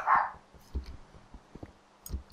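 Dogs bark in the background while someone plays Sky Factory 2, with one clear sharp bark at the start followed by fainter scattered yips and thumps.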